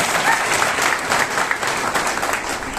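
An audience claps loudly for Narayan ji at a gathering, giving a sustained burst of crowd clapping, full and continuous from start to finish with no talk over it.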